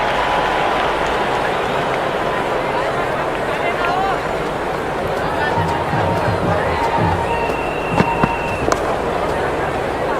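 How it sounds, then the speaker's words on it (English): Stadium crowd noise from the cricket video game Cricket 26, during an India vs South Africa T20 match. A dense, steady roar of distant fans runs through the whole stretch, with a few brief sharper sounds near the end and commentary over it. "There's an almost tangible fervour throughout the crowd at the moment."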